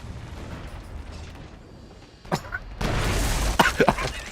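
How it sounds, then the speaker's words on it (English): In the stealth game Shadow Tactics, a cannon fires and explodes: a sharp burst followed by a heavy, rumbling blast with crackling debris, rising out of a quieter ambient background. "Oh, there's a cannon right there."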